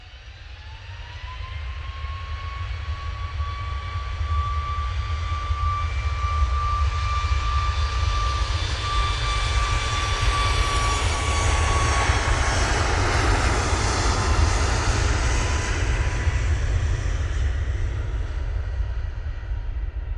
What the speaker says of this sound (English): Sun Express now departing.